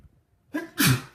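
A single close, loud sneeze, preceded by a short sharp intake of breath, then a forceful burst.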